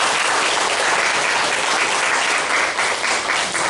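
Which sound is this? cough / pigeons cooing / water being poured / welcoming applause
welcoming applause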